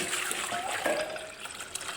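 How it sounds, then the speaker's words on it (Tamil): Water poured from a cup into a cooking pot while making wheat halwa, a steady trickling, splashing stream heard close and continuous with no talk. "இப்போ நாலு கப்பு தண்ணி கலந்துக்கலாம்"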